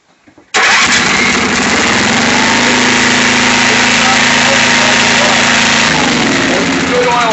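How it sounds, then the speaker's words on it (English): A Kaywood portable generator engine catches after a brief clatter, then runs at a steady loud drone close by, with a slight drop in pitch near the end. "And now fire it up and see it'll run."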